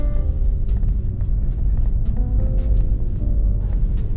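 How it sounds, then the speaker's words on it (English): Inside a moving Tesla, low road rumble fills the background while sharp, irregular rattling clicks from a loose GoPro mount repeat throughout, close by. "what that rattling sound is. It's not my car, it's the GoPro mount"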